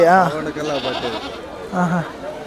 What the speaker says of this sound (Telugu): పిల్లలు ఉండే మేకలు ఉన్నాయండి ఇక్కడ